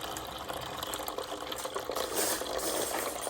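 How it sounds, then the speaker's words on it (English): Water is poured steadily into the tank of an Arctic Air Chill Zone XL portable air conditioner, a continuous close splashing trickle lasting a few seconds with no talk. "we're gonna pour water down in here without missing a beat"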